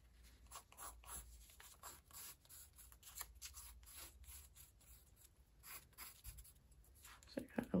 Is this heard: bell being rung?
no